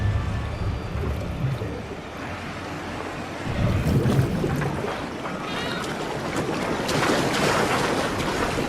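Swimming through sea water in the video game Assassin's Creed IV: Black Flag: continuous sloshing water and surf with wind, rising to a louder splashing surge midway, with no voices.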